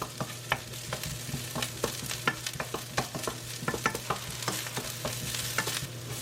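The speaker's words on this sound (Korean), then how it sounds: "올리브 오일 1숟가락 대파 넣고 볶아주세요." Green onion stir-frying in a spoonful of olive oil in a pan, a steady close sizzle broken by frequent sharp clicks and scrapes of a utensil stirring, with no talking.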